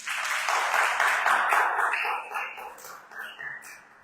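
Church congregation applauding together in a worship service, a dense sustained clapping that fades out over the last couple of seconds.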